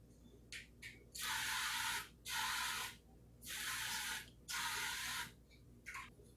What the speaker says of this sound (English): Now I'm going to go ahead and spray this with some olive oil.